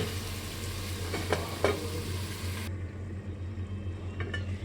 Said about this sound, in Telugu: అంతా కలిసేలా బాగా కలుపుకోవాలి చికెన్ని